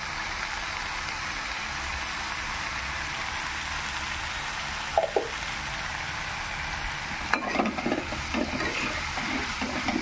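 Brinjal and dry fish with salt and turmeric fry in a hot pan with a steady low sizzle, and the spatula scrapes and stirs in short bursts near the end.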